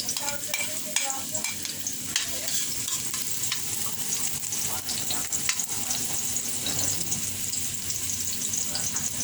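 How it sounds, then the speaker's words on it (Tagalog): Garlic sautéing in a pan for pansit guisado, a steady close sizzle with spoon scrapes and brief clatters, a faint voice occasionally underneath. "Ayan, lagay na po natin ang ating bawang. Igisa na po natin."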